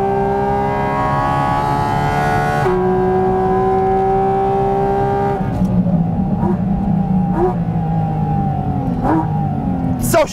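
A fast car races with a loud, high engine whine that climbs through the gears, then drops sharply as it brakes hard toward the end, with a few sharp bursts after.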